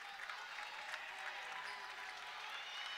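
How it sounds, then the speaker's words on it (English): Bayport Blue Point fans applaud at a boys' high school basketball game, a steady, moderately distant patter of clapping in a gym with no break. "Get the applause from the Bayport Blue Point fans"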